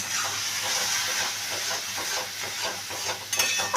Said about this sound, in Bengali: সামান্য একটু জল দিচ্ছি।